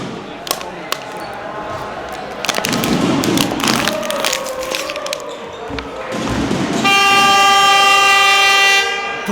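Futsal arena siren horn sounding to end a break in a Serie A match between Arzignano and Feldi Eboli: a loud, sustained tonal blare rising over crowd noise and clatter after a noisy stretch with thumps and bangs.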